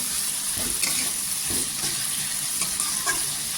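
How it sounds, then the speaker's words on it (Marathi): Tomato and onion sautéing in oil for a spicy dried-fish and drumstick curry, with a continuous sizzle and repeated rhythmic spatula stirs scraping the pan up close. "टोमॅटो पण एकदम सॉफ्ट झाला पाहिजे, तेलावर परतून घेतलं पाहिजे"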